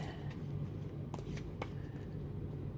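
A deck of cards is quietly shuffled nearby, soft riffling and papery flicks against a low background hum.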